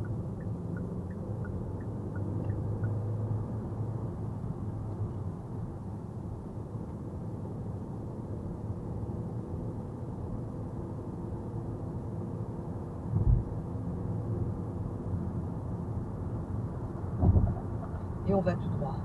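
A learner's car accelerating hard on a road during a driving lesson, a steady, loud low engine and road rumble throughout with brief thumps near the end.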